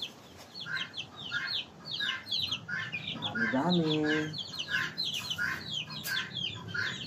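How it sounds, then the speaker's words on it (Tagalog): Laying hens on a gamefowl breeder's farm cluck in short, repeated bursts, with one drawn-out cackle in the middle; someone speaks briefly over the birds. "Marami kang alaging inahin na manok."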